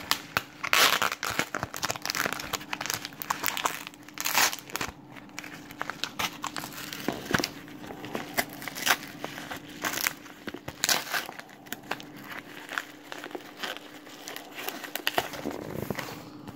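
A heavily taped mail package is torn and crinkled open close by, with repeated sharp ripping and crackling bursts of tape and paper continuing steadily throughout, no talking.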